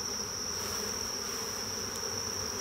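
Bees are shaken off a honey frame over the hive, producing a dense, steady buzzing swarm hum with a high whining drone, close and continuous, with no voices.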